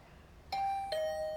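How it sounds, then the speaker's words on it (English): A two-note ding-dong doorbell chimes inside a video game at night, clear and close, each tone ringing on with a long sustain over a quiet background. "But then my doorbell started ringing."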